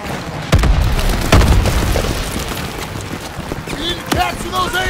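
Gunfire and grenade blasts in a Call of Duty WWII battle send a heavy boom rumbling under constant shouting voices, chaotic and loud throughout.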